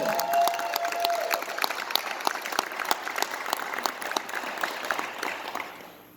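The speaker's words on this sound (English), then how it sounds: "So a big round of applause here for Chandler" An audience at a college signing night applauds for Chandler with steady, fairly soft clapping and a few louder claps, the crowd noise easing off at the end.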